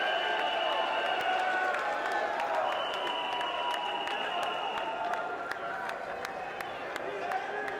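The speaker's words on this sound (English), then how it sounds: "he is soaking in the adulation of this massive crowd here" A large crowd at a JCW wrestling event cheers and applauds wrestler RVD, a steady, distant roar of cheering and clapping with whistles, continuous throughout under faint commentary.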